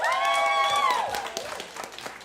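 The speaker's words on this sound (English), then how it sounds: "Just clap." Bar audience at a Taste of Science event applauding in a dense wash of claps, with a few voices and cheers mixed in early on, fading slightly toward the end.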